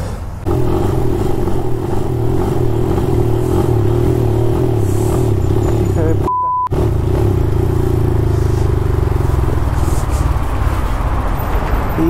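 A new motorcycle's engine runs loud and close with a steady throbbing drone, cuts out briefly, then fires back up and keeps running with a rough, slightly rising tone.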